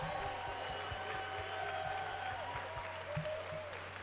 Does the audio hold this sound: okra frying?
no